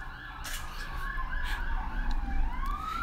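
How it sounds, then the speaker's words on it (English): Emergency sirens wailing outside, rising and falling tones from more than one vehicle overlapping at moderate distance over a low traffic rumble, no talk. "The sirens are going."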